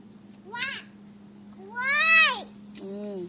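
A street cat gives three distinct meows, the middle one longest and loudest, close by over a low steady hum in a quiet setting.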